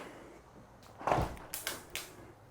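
A garden door in a prefab home opens or closes with a soft knock followed by a few lighter clunks and rattles, fairly close and with no talking.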